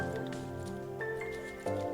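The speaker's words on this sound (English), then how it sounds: "Some nice pour coming out of there." Liquid from a Muntons Winter Warmer homebrew beer kit pours steadily, a continuous gurgling splash with slight shifts in flow, heard close up with no talk.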